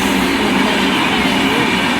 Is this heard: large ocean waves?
no